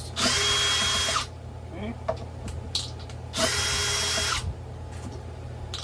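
A power drill whirs in two bursts of about a second each while removing the top bolts of the front sensor pad on a Onewheel Pint X, with small clicks and handling noises in between and a brief spoken word.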